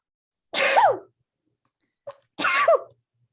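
Two sharp sneezes about two seconds apart, close and loud, with a tiny catch of breath between them and silence around.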